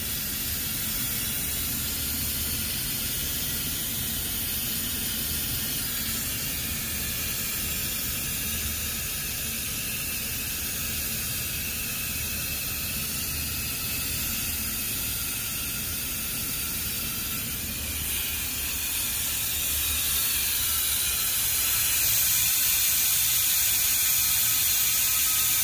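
Transmission fluid pouring into a GMC Sierra AT4 during an ATF service, a continuous even hiss with a faint mechanical whir underneath that swells slightly toward the end, with no speech.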